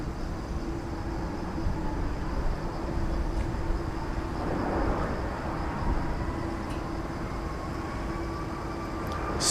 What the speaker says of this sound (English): 747 coming in over on the east side.